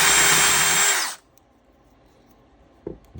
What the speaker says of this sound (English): so I'm going to just ream them out